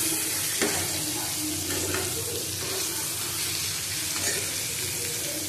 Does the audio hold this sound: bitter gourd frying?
yes